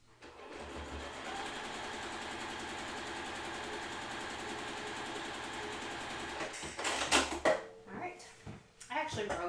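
A sewing machine re-stitches a quilt seam, its steady motor whir running continuously for about six seconds before stopping, followed by brief handling clatter and a person talking.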